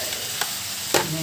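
Vegetables frying in a pan in a small home kitchen, with a soft sizzle under two quick scraping stir strokes.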